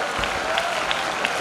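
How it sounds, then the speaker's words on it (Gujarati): An audience claps at an honoring ceremony, a steady patter of applause from a crowd filling the short moment, close and fairly loud. "આપણે ખૂબ ખૂબ હાથ ઊંચા કરી તાળીઓ પાડી અને એમને આવકારીશું"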